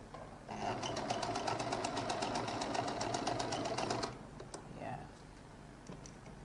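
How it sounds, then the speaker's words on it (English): A sewing machine runs in a steady, fast stitching burst while sewing down fabric on a lady's jacket, then stops, leaving quieter handling sounds and a brief whir afterward. "So I'll now turn this and stitch this one down"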